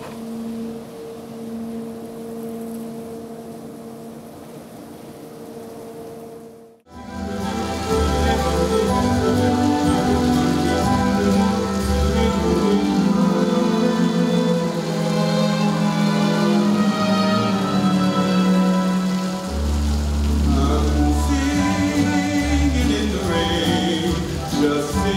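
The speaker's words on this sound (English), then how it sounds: "And that's how we made it rain for Singing in the Rain." Stage rain effect in a theatre production of Singing in the Rain, water spilling from an overhead gutter: after several seconds of quiet, a loud, steady wash of falling water starts abruptly and pours continuously to the end.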